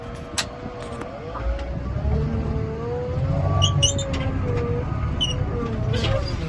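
A Caterpillar 950 wheel loader's diesel engine runs steadily in second gear, a continuous close rumble with a droning hum that rises slightly midway, faint chirps above it.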